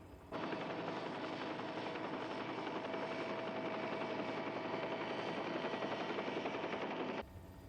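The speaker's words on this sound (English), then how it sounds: "I'll have to move the copter clear." Helicopter hovering above a hot crater, a steady dense rotor-and-engine roar that holds evenly for about seven seconds, fairly loud and alone with no voices.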